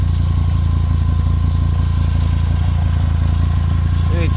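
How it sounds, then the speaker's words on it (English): A Volkswagen Jetta MKV engine runs steadily with an exhaust leak, giving a loud, continuous low rumble with a rapid pulsing throb that stays even throughout, close to the car. "the exhaust is leaking from up there"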